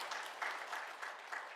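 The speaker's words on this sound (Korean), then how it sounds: "같이 박수로 축하해 주시면 좋겠습니다." Church congregation applauding together at a Sunday service, a steady wash of clapping that swells in a few pulses, somewhat distant and fairly faint.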